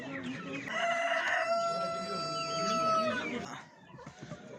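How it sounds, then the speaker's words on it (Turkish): A village rooster crows nearby at a poultry market in one long, drawn-out call, loud and sustained, with faint clucking and background murmur as it fades. "Pazarda iki tane de yan yana köy horozumuz var."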